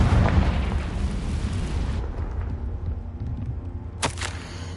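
A Confringo explosion spell bursts in Hogwarts Legacy with a loud, booming blast and a rumbling tail that fades over a couple of seconds, then a sharp crackling pop near the end.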